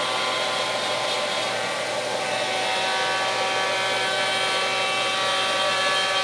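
A Shaper Origin handheld CNC router cuts a wooden cutting board with a loud, continuous high-pitched spindle whine and steady cutting hiss, unbroken for the whole stretch with no talk.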